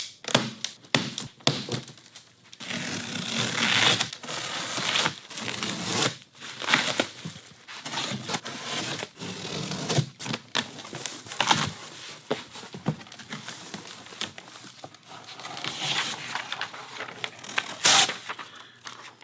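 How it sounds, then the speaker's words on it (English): Shipping packaging being unwrapped from a Pegasiix unit: close, irregular crinkling, tearing and tapping thuds come in busy bursts with short pauses, continuing at moderate loudness throughout with no talking. "I wanted to start from the shipping packaging and get it unwrapped"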